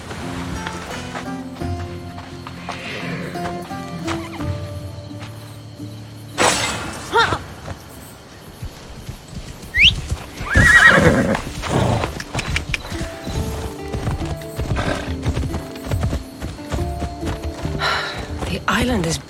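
Horses in Assassin's Creed Odyssey break into a run, hooves clopping rhythmically with a short whinny and scattered clatter, while voices talk over the galloping.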